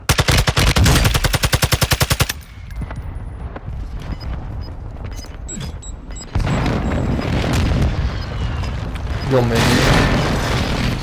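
Rapid automatic gunfire from a Call of Duty: Mini Royale Trios match, a loud burst of evenly spaced shots up front followed by scattered shots, booms and ongoing battle noise, with a player's voice heard briefly.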